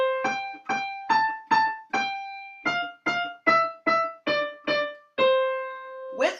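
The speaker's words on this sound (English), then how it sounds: "So if I was to play Twinkle Twinkle Little Star without chords," A solo piano plays the Twinkle Twinkle Little Star melody as single notes without chords, about a dozen clear, evenly spaced plucked tones ending on a longer held note, close and alone with no talking.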